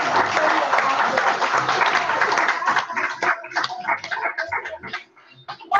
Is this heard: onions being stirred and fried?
no